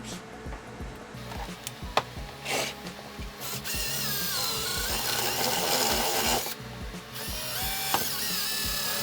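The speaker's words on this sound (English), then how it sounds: "we're going to drill out these rubber end caps" A power drill whirs steadily for several seconds as it drills out rubber end caps on a metal bracket, its pitch shifting as it bites through, with brief pauses and restarts.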